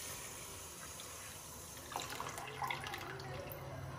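Water pours steadily into a pan of sugar, a continuous splashing trickle with a few brighter splashes near the end, close and fairly quiet.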